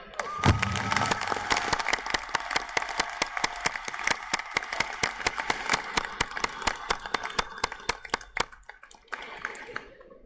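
A large audience claps in sustained applause for educators after a Betsy DeVos speech, dense and steady for roughly nine seconds before thinning out and fading.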